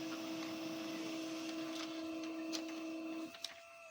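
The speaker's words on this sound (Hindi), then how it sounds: "स्टार्ट बटन प्रेस करते ही जो है ये एक प्रिंट आउट निकाल देगा।" An HP Laser MFP 1188W printer makes a photocopy, a steady quiet mechanical hum with a whirring drone that cuts off near the end, followed by a couple of soft clicks.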